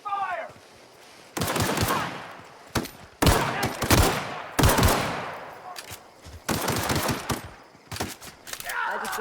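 Repeated bursts of heavy automatic gunfire in The Outer Worlds, loud rattling volleys in several separate waves with brief gaps between, and a short voice line at the start and end.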